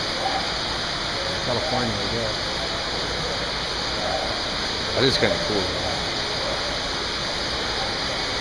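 An indoor waterfall in a Bass Pro Shops store, themed on California rivers, roars as a steady loud rush of falling water, with someone talking over it.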